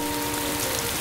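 Steady rain from a malfunctioning homemade weather machine patters on surfaces in a cartoon village, a continuous, even hiss with no talk over it.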